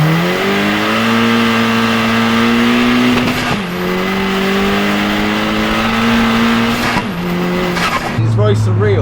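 A 450HP turbocharged VW Caddy van with an S3 engine swap pulling hard in second gear: a loud, close engine note climbing steadily in pitch, dropping briefly at each shift and rising again, continuous throughout.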